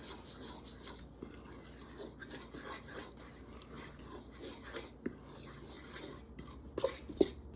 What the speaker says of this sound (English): So with a sturdy fork, I will dry mix that.